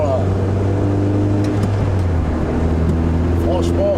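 A Lotus Elise S1 engine drones steadily from inside the car, its tone shifting as it pulls, with people talking over the constant engine noise.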